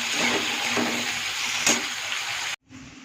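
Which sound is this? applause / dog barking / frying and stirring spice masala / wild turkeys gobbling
frying and stirring spice masala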